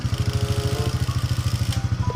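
Motorcycle engine running close by at an even idle, with a rapid, regular pulsing throb and no voices.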